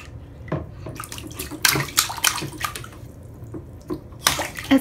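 A child splashing water in a bathtub at home, with repeated close, irregular splashes and sloshing bursts, loud and bright, no talking over them.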